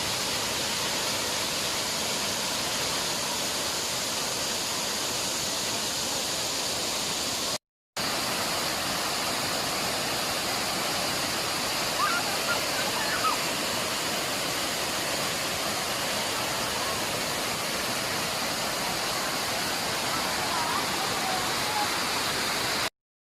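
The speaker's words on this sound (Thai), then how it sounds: "เสียงน้ำตกนั้นทำให้เราหายเหนื่อยจริง ๆนะครับ" Huai Sai Lueang waterfall on Doi Inthanon pours in a dense, constant roar of falling water, steady and close throughout with no voices.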